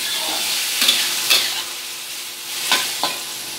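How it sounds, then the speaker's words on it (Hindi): Tomatoes with a pinch of salt roast and get stirred in a pan for palak moong dal, giving a steady frying sizzle. A few sharp scrapes of the spoon against the pan stand out over it, with no talk. "इसको अच्छी तरीके से भून लेना है।"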